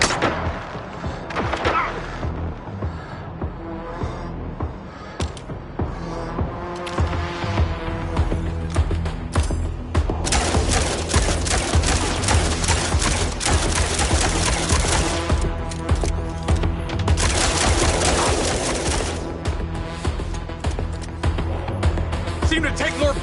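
Gunfire in the video game Mindseye, with dense bursts of rapid shots and heavy thuds over a loud, busy game soundscape, building to sustained firing in the middle, with a voice talking at times.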